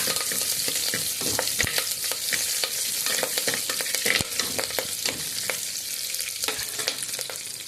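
Curry leaves crackle and sizzle in hot oil in a home kitchen, where homemade vadagam is also frying. The sizzle runs steady throughout, with sharp pops and spatters scattered through it and the occasional stir, close and fairly loud, with no one speaking.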